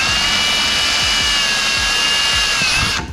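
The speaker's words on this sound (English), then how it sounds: "I'm gonna use a 3/16 drill bit, make sure this is lined up good." A power drill with a 3/16 bit whines steadily at high speed drilling a hole in a Can-Am Maverick X3 grill, loud and close, running continuously before winding down at the end.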